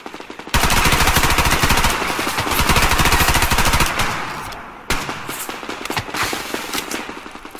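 Automatic gunfire in the shooter game Survarium on the Radar Station Vostok map, long loud rapid bursts of machine-gun fire, a brief pause near the middle, then more ragged shots close by with no talk.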